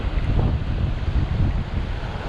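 Steady wind gusting on the open ocean during striper fishing amid big swells, a loud continuous rushing roar buffeting the microphone with no talk.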